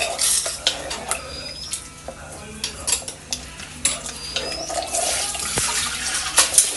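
Boiled water poured into a pot of Kerala-style beef curry, making a loud splashing, bubbling rush over repeated scrapes and clinks of a spoon against the vessel.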